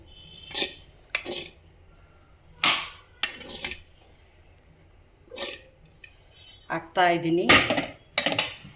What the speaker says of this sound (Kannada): ನಾನು 2 ತಟ್ಟೆಗೆ ಹಾಕ್ತಾ ಇದ್ದೀನಿ ಅವಲಕ್ಕಿನ